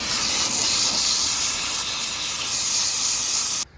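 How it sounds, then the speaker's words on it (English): A steady, forceful hiss of water or air sprayed through the back side of a filter, loud and close, running unbroken for several seconds before cutting off abruptly. "Spray it from the backside, obviously."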